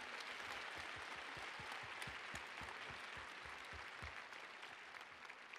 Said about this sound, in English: Round of applause for Brent.